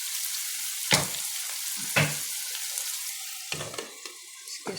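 Spinach and onion frying in a pan, a steady hiss of sizzling oil with several louder bursts and clatters as the greens are stirred, close and continuous with no talk.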